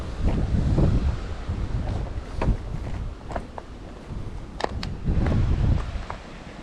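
Strong, hectic wind buffets a microphone on a tropical cliff, a steady loud roar with gusty swells and no talking.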